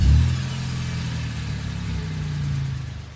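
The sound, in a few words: car engine starting unexpectedly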